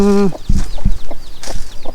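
Chickens clucking and squawking close by in short, irregular bursts, one sharp high call at the start, with faint voices mixed in.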